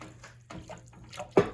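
Milk for macaroni and cheese pours into a pan in short uneven splashes, ending in one louder slosh, close by with no talking.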